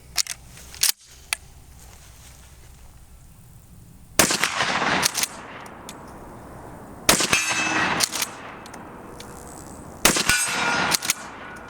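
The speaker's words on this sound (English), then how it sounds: "That steel target was absolutely rattled." A Remington 870 Wingmaster shotgun fires 1-ounce slugs at a steel target 50 yards away, giving four loud, sharp blasts spaced a few seconds apart, each followed by a ringing clang and a decaying tail.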